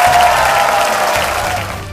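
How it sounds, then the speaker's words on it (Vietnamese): Studio audience on a Vietnamese TV singing show applauds the young singers, a dense, loud wash of clapping that fades slightly over two seconds. "Và bây giờ chúng ta sẽ cùng dành những tràng pháo tay để chúc mừng cho cả 6 ca sĩ trẻ."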